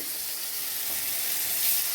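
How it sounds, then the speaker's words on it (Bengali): Ground spice paste of onion, garlic, chilli, ginger, cumin, coriander and turmeric sizzles loudly with fried tomato in a pan, a bright continuous frying hiss close up with no talking. "টমেটোটা ভাজা ভাজা হয়ে গেছে, এবার আমি মশলা দেব, বাটা মশলা।"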